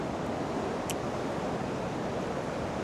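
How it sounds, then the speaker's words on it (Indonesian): Ocean waves crash and roar steadily at Pulau Hanoman, forming a dense, continuous wash of surf with a windy hiss and no distinct breaks, loud and close throughout. "Gila, ngeri banget ya ombaknya."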